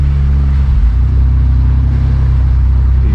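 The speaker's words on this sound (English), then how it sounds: "Let's see if I can get through here in 2-wheel drive without spinning, and I'm gonna go slow" A Toyota 4Runner on Toyo RT tires creeps slowly along a slippery trail in two-wheel drive, its engine a steady, close low rumble with a faint droning hum throughout.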